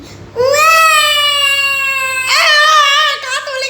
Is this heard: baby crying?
yes